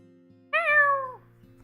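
A person's voice imitates a cat's meow, a single drawn-out falling meow lasting about half a second, close and clear over a faint steady background hum.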